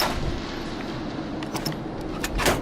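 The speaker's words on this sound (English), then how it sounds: "Let's see if we can hit it here with this missile." A missile fired at a deathclaw in Fallout 4 roars and hisses as a steady rushing noise, with a few sharp cracks and a final boom near the end, and no one speaking.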